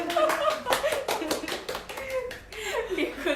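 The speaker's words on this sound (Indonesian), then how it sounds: "Tolong penonton bayaran tepuk tangan" A small studio audience claps in scattered, uneven bursts during a live Indonesian talk-show stream, with a voice murmuring underneath the close, sharp hand claps.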